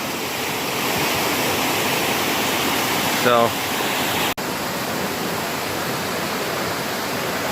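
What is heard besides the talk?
waterfall in the wilderness of Upstate New York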